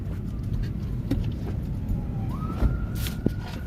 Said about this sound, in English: More police cars.